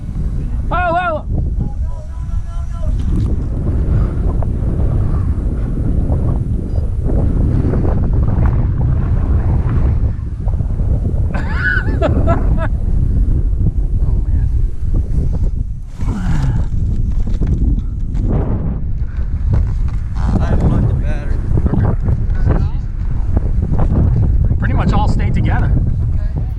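Strong, constant wind buffeting rushes over the whole stretch, roaring loudly against the microphone with occasional gusts.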